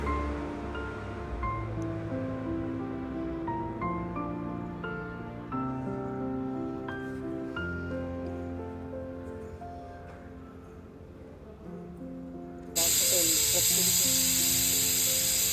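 A home pressure cooker with cauliflower, water and salt inside lets out a loud, sustained hissing steam whistle for the last few seconds, cutting in abruptly after a long stretch of background music.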